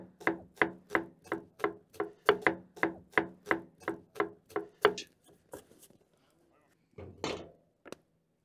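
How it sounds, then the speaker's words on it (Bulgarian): A knife chops through half an onion on a board in a steady run of about fifteen crisp, evenly spaced knocks, then pauses before a couple of scattered taps and a brief rustle. "Избърсвам ръцете и започвам рязането на лука."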